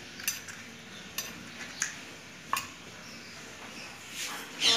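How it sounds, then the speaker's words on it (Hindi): Eggs being beaten with a utensil for egg paratha, a few light clinks and taps against a bowl spaced irregularly over soft background noise, faint and close. "ये हम अंडे को फेंट रहे हैं"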